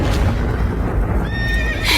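Several horses neigh and whinny loudly in an animated folk tale after a fire in the royal stables, a continuous dense burst of shrill cries with faint hoof-like thuds and no talk.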